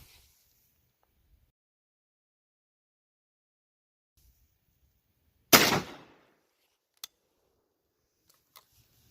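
A single loud, sharp shotgun blast of a .45 Long Colt round through a 22-inch barrel over a chronograph, one sudden report with a brief decay, then a couple of faint clicks in otherwise quiet surroundings.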